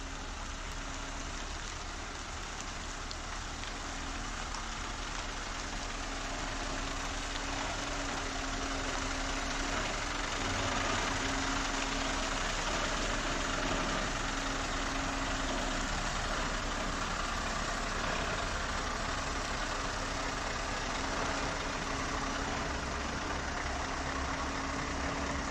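A Scania S580 V8 truck engine idling while the truck backs in. The rumble is steady and continuous, with a faint hum running through it and no talk.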